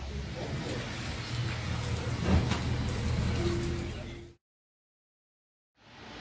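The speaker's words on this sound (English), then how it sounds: "raining like piss pouring out of a bucket" Heavy rain pours down on a South Carolina morning, a dense, steady broadband hiss with low rumble underneath, cutting out abruptly near the end before resuming.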